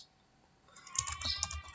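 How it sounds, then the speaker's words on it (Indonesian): Typing on a computer keyboard, quiet at first and then a close run of rapid clicking keystrokes that fills the second half, with no voice over it. "Kita ketikkan di sini."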